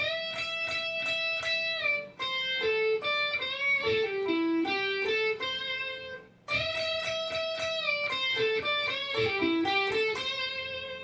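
An electric guitar plays the closing riff of a cover song, single sustained notes and bends in two matching phrases, each ending in a brief gap, played alone with no talking.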